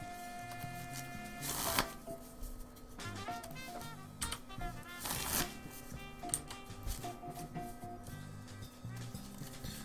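A deck of Magic: The Gathering cards being shuffled during a Vintage tournament match, with repeated riffling bursts of card flicks over a low steady background hum.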